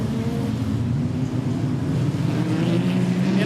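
Production sedans racing at Maryborough Speedway in a national title B-main, a sustained roar of engines passing with wind noise, fairly loud and continuous, no speech.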